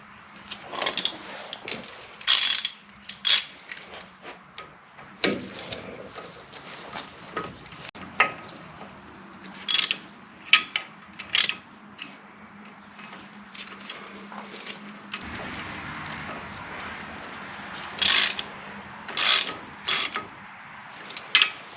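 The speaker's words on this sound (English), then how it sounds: "I'm just going to put a couple of lug nuts on it just to hold it so it doesn't fall off." A ratchet threads lug nuts onto the hub of an '86 Ford Ranger 4x4 diesel, giving repeated close bursts of sharp clicking in irregular runs separated by short pauses and handling noises.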